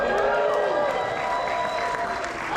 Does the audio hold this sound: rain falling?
no